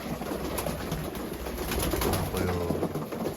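Soft, steady cooing of Iraqi pigeons kept in a loft in Germany, repeated low coos overlapping throughout with faint background voices.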